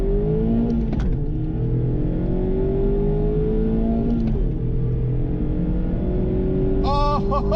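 A 2020 Mazda MX-5 RF Grand Touring hardtop accelerates hard, its engine note climbing loud and close through two quick gear shifts before a final rising rev, with no talking.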